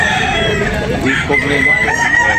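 A rooster offered for sale, about two years old, crows loudly and close in a single long drawn-out call, with clucking and other fowl around it and no one speaking over it.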